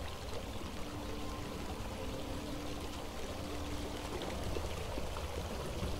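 Flowing water from a housing decoration in Elder Scrolls Online, a steady soft trickling stream that runs unbroken and fairly quiet throughout, with no voices over it.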